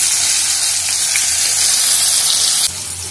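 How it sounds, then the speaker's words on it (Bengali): Bitter gourd pieces frying in hot oil with salt and turmeric, a steady loud close sizzle that continues throughout and drops slightly near the end. "এবার খুব ভালো করে নাড়াচাড়া করে উচ্ছেগুলোকে ভেজে নেব।"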